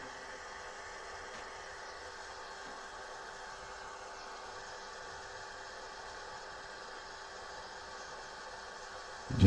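Fuel system of a 2017-2019 Ford F-350 refilling after a fuel filter change, a faint steady hum and whir from the pump running evenly throughout, no talking.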